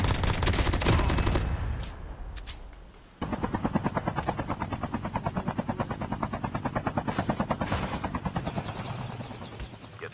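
Gunfire in Call of Duty Mobile: after a loud burst of noise at the start, rapid automatic shots rattle in a steady, evenly spaced stream, with a helicopter-like drone behind them.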